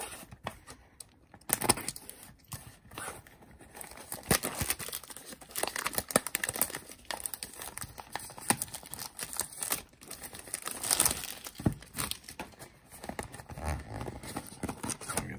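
A trading card hobby box is cut open up close, giving a continuous run of crinkling, scraping and tearing cardboard and plastic wrap with scattered clicks and bumps, fairly quiet and without speech.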